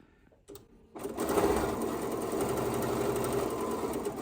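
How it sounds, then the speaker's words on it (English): A sewing machine starting up after a brief pause and then stitching fabric steadily, a close, continuous mechanical whir with fast rhythmic needle chatter. "I'm going to back stitch."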